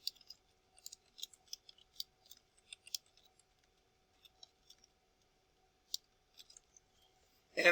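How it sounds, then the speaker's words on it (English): Brisk keyboard typing into the Desmos graphing calculator: irregular clusters of light, crisp key clicks spread across the clip, sparse near the middle, ending in a sudden louder burst of noise. "I'm going to type up in the Desmos calculator"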